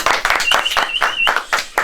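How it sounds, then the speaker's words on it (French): Brief, close bursts of clapping from a small group on a film set at the end of a scene, uneven and loud for under two seconds. "Allez, on applaudit."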